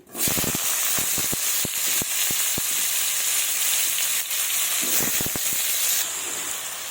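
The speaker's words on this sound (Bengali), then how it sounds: "আর এদিকে আমি লাউ আর এই আলুগুলোকে ভেজে নেব।" Bottle gourd and potatoes fry in mustard oil in a wok, a loud steady sizzle with crackling pops, scattered sharp spits early on and again near the end.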